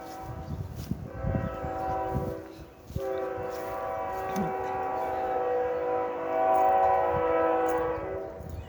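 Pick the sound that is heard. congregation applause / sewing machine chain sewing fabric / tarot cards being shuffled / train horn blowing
train horn blowing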